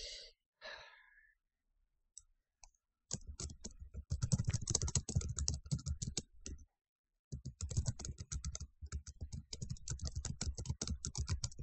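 Typing on a computer keyboard during an online chess match, fast bursts of key clicks in two runs split by a short pause, preceded by a breathy sigh.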